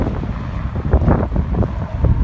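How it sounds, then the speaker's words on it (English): Strong gusting wind buffets the microphone near a freeway overpass along the Pacific Crest Trail, a loud low roar that swells and eases without speech. "It's so windy out here."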